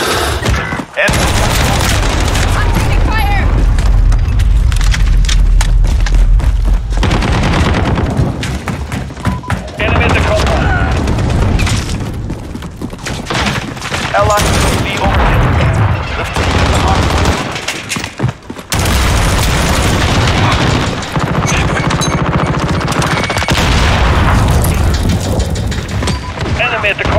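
Gunfire in the Call of Duty Modern Warfare multiplayer video game: loud, sustained machine-gun bursts mixed with heavy booms and thuds, nearly continuous with brief lulls, and shouted voices over the battle noise.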